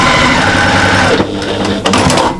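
A fast sewing machine runs loud and close while stitching quilt squares, a rapid buzzing hum that briefly slows and pauses before picking up again.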